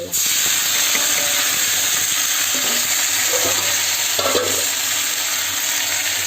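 Tomatoes going into a pan of roasted potatoes in a home kitchen, giving a steady, loud frying sizzle with hiss and some stirring scrapes throughout, no talking.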